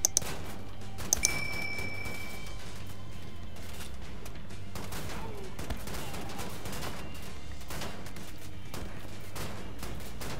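Shotgun blasts in the video game Wolfenstein: The New Order boom out in quick bursts over a constant low hum of game sound, with a couple of sharp metallic pings near the start.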